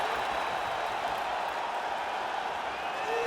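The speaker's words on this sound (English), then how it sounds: "you hear the crowd react every time they come together" A crowd at a UFC fight murmurs and roars steadily throughout, a dense wash of many voices with scattered claps and no clear pauses.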